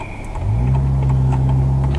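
A car drives with its engine hum rising to a steady, close drone inside the cabin, continuous and fairly loud throughout, with no one speaking.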